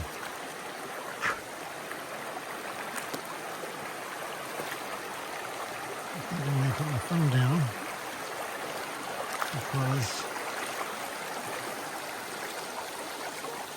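River water rushes steadily around someone wading across the Piscataway West Branch River, a constant close flow with splashing steps, while someone speaks briefly over it.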